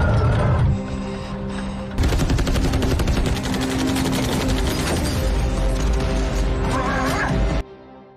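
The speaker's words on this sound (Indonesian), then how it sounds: "mereka muntahkan ratusan peluru untuk melumpuhkan Dayong" Sustained tank machine gun fire from an action film, a loud dense rapid rattle of hundreds of rounds continuing for several seconds with crashing impacts, preceded by a brief rumble.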